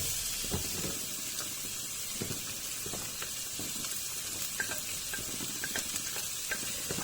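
Chopped onion and bell pepper fry in a pan with only a little oil, giving a steady close sizzle broken by scattered clicks and scrapes of stirring, with no voices.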